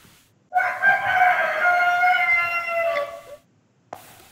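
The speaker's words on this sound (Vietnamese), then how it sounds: "Con gà thịt được rồi đấy, gáy hơi bị to đấy" A meat rooster crows loudly and close by, one long drawn-out call lasting about three seconds, followed by a brief faint click.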